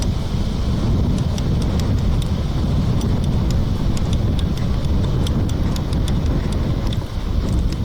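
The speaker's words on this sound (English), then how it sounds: "It's clearly very windy, this tournament." Steady wind roars and buffets at an outdoor tennis court during a tournament, a dense low rumble throughout, with scattered sharp ball-strike-like pops faintly above it.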